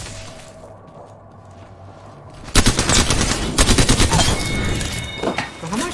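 Automatic gunfire in Apex Legends Season 9: after a quiet stretch of low game ambience, a loud, close burst of rapid shots erupts and continues in dense, rattling volleys to the end.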